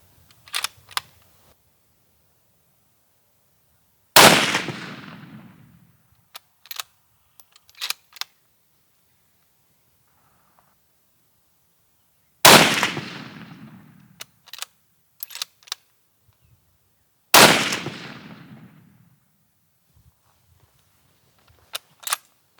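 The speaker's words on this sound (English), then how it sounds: "So we're at the impala target after 3 shots off the sticks." Three loud rifle shots fired off shooting sticks at an outdoor range, each a sharp crack with a decaying echo, spaced several seconds apart, with faint clicks between.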